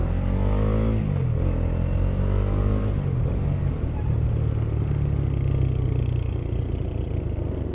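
A Kawasaki Dominar 400 motorcycle rides along a road near Tagaytay, its engine a steady loud rumble with a brief shift in pitch early on, mixed with wind roar and road noise, no talking.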